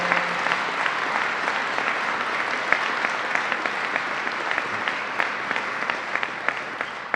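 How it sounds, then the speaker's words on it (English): An audience at a government announcement event applauds in a steady, sustained wash of clapping, even in level and heard from a moderate distance, with no speech over it. "So let's give him a big round of applause."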